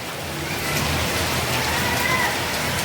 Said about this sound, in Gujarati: જો કેવો વરસાદ આવે